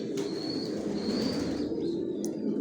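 Pigeons cooing in a loft of long-distance racing birds, a steady low murmur of overlapping coos filling the background with faint higher chirps above, continuous and fairly close.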